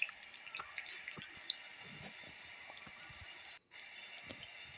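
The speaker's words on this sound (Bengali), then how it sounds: "এপিট ওপিট ভালো করে ব্যাটারটা লাগিয়ে নিয়ে আমি গরম তেলে ছেড়ে দিচ্ছি" Batter-coated leaves drop into hot oil in a pan on a gas stove. The sizzle is faint and steady, scattered with small crackles and pops, with a brief dip near the end and no talking.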